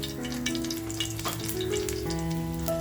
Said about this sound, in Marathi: बघा तेल आपलं छान तापले, थोडीशी लसूण टाकते आणि हिंग टाकते बघा.